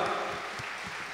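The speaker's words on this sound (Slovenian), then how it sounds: "en aplavz tudi za vas, ker ste nam pomagali prepevati" An audience at a folk music radio show claps steadily, a dense wash of applause throughout the short moment with no voices standing out.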